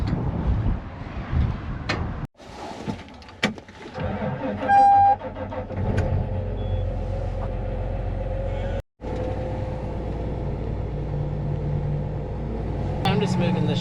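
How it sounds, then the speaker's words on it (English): A farm tractor engine idles and rumbles low while being moved, a steady throbbing drone with brief clanks and a couple of abrupt cutouts; someone talks over it at times. "I'm just moving this tractor for Cheeto."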